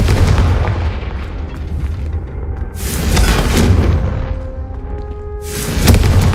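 In the game Hogwarts Legacy, the Confringo fire spell explodes in loud, heavy booms with a rumbling blast early on and another sharp burst near the end, surrounded by a thick layer of game noise.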